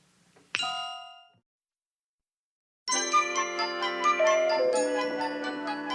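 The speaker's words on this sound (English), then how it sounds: "Sam, the doorbell." A doorbell rings once in a 1970s sitcom home, a bright chime that decays over about a second; after a pause, a tinkling melodic chime sequence plays for several seconds.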